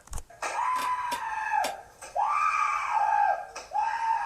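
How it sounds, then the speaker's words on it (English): A person screaming on a live stream, several drawn-out, piercing shrieks in bursts separated by brief pauses, loud and close with no other talk. "This person's just screaming"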